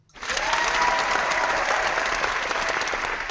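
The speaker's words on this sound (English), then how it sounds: "let me conclude with a round of applause for the two of you" Applause swells quickly and holds steady, many hands clapping together in a full, even roar.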